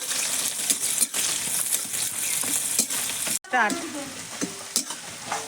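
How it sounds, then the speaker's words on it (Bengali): Chopped onion and garlic fry in oil in a pan for a korai chicken dish, a close, steady sizzle with repeated stirring scrapes. Near the end comes a brief drop and then a fresh burst of hissing. "পেঁয়াজ কুচি, রসুন কুচিটা একটু ভালো করে ভেজে নেব"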